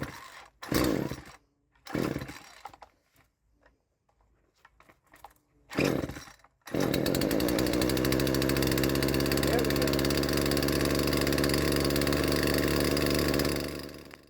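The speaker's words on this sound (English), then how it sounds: "I haven't started the chainsaw in a while." A chainsaw pull-started after a long idle period: a few short rough pulls and sputters, then the engine catches and runs loud and steady at close range for several seconds before cutting off.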